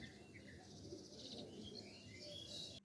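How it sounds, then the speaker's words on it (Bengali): Morning birds chirp and call outdoors under an overcast sky, scattered high tweets carrying through steady background noise, with pigeon-like coos low beneath; no one speaks. "পাখির ডাক"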